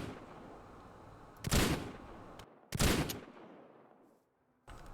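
Two heavy pistol shots ring out in a Modern Warfare mod video game, each a sharp, loud blast with a short ringing tail, spaced about a second apart against a faint background hum.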